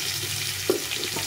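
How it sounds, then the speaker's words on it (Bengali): Potatoes and pointed gourd fry in hot oil, giving off a steady crackling sizzle with a small pop partway through, close and continuous with no talking. "পটলগুলো একটু ভেজে নেব, একটু লাল লাল করে আলু আর পটলটা ভেজে নেব"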